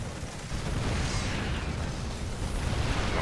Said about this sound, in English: Bunker goes down.